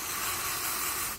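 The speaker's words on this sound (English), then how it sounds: "I'm going to spray the tops of both my feet." An antifungal foot spray aerosol releases one steady, close hiss that lasts the whole moment and tapers off at the end.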